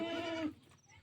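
A goat gives a short, close bleat with a wavering, harmonic cry, then goes quiet with faint background noise behind it.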